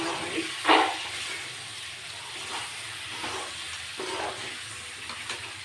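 Potatoes and chicken sizzling in a pan on a gas stove: a steady, fairly faint frying hiss with one brief louder crackle near the start and soft pops scattered through.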